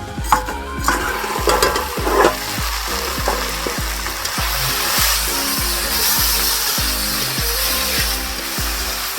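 Onion and a ground paste of cumin, ginger, onion, garlic and dried chili fry in oil, a loud close sizzle punctuated by steady, regular scraping strokes of a stirring spoon.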